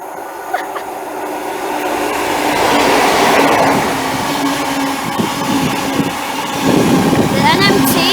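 Network Rail's yellow New Measurement Train rumbles past at a dockyard line, a building roar with clattering wheels that swells and stays loud, while people talk excitedly nearby.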